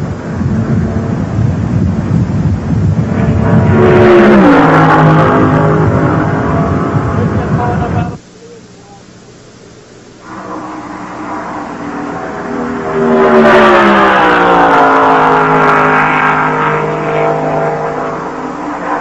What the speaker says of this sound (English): let Terry Labonte's Oldsmobile come by at over 200 miles an hour